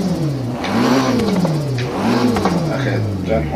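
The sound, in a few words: car engine revving while stopped in Forza Horizon 3 video game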